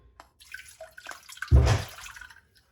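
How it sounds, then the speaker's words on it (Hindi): Water is poured over cauliflower in a cooking pot: soft drips and trickles, then a brief, louder splashing pour that tapers off, close by and with no talking. "अब यहाँ पे फिर मैं पानी थोड़ा सा डाल दूंगी।"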